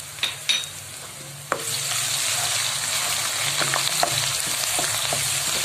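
Chopped garlic hitting hot oil with lightly browned onion in a pan, giving a sudden loud, steady sizzle after a few stirring scrapes, close and continuous with no talk.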